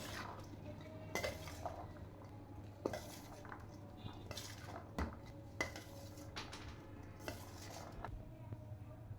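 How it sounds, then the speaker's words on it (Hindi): Cabbage, cucumber, green chillies and other chaat ingredients are mixed in a bowl with a spoon, with repeated close clinks and scrapes of metal against the bowl at an uneven rhythm. "डाल के इन सारी चीज़ों को अच्छे से मिक्स कर लेंगे"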